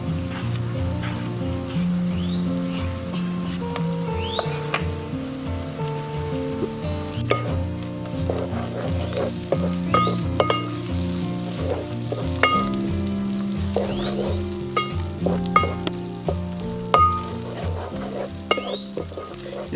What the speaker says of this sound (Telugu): ఇది కొంచెం వేగాలి, వేగేంత వరకు వెయిట్ చేద్దాం